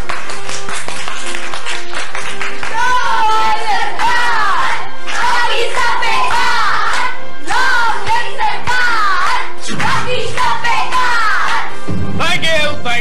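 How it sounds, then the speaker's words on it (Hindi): An audience claps and cheers in loud bursts, with several rounds of applause broken by short pauses, while voices shout over the noise. "तालियां तालियां तालियां।"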